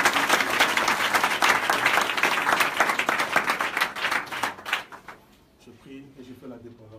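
A church congregation applauding to acclaim the Lord, loud, dense clapping that carries for several seconds and then stops, followed by a voice speaking.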